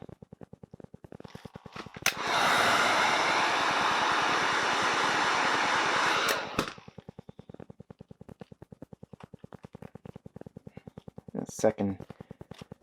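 A heat gun blasts a loud, steady rush of hot air for about four seconds while heating an RC body panel for an Axial Capra, with faint clicks and handling noises before and after.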